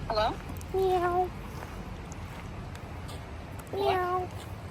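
A person mimics a cat, giving two drawn-out meows with a short one at the start, over steady background hiss.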